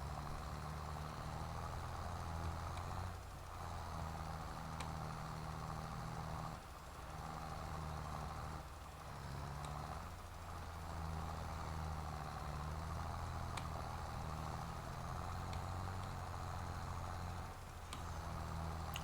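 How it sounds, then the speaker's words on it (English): Steady low engine idle of a tractor stuck in mud in Farming Simulator 22, a continuous deep rumble with a mid-range drone, holding level throughout with no talk. "The tractor had no grip for the mud."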